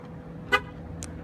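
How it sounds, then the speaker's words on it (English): A Nissan's horn honks once, a short loud toot, with a fainter second chirp moments later over low background noise. "The horn will honk to let you know that it's been reset."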